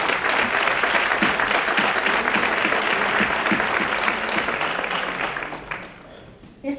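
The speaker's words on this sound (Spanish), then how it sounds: "Un aplauso para vosotras, por favor." An audience at a love-letter writing contest event applauds warmly. The clapping is dense and sustained, then thins out and fades near the end.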